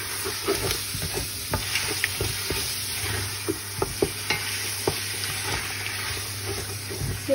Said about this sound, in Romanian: Amestecăm rapid.